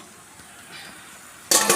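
Kalo kochu (taro) stirred in a pan in a village kitchen: after a quiet, faint sizzle, a brief loud scraping burst comes near the end as the spoon moves through the pan.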